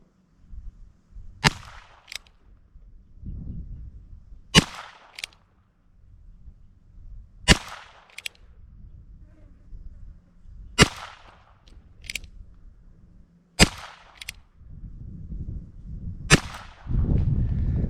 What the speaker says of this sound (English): this is going to be the Aguila 40 grain super extra. This is just the lead bullet, shooting at the bottom row, left target, starting with a standard Ruger Wrangler.